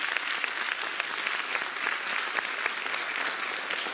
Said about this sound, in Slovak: Ešte jeden veľký potlesk pre Lanu.